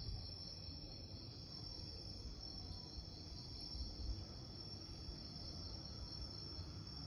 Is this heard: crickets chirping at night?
yes